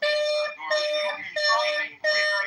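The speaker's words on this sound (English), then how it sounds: "Can someone play a smoke detector, please?" A smoke detector alarm sounds four long, loud, steady beeps in a regular on-off rhythm, each cut off sharply.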